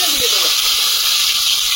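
Potatoes hit hot oil in a kadai already seasoned with five-spice, setting off a loud, steady, bright sizzle that fills the whole moment after a brief clatter at the start.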